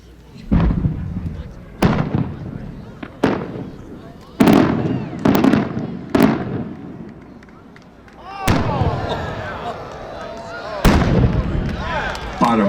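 Aerial firework shells from an 8-inch bottom shot at a winter pyrotechnics event burst in a series of sharp, loud booms, about eight reports spaced over several seconds, with crackling tails and a longer rumbling break near the end.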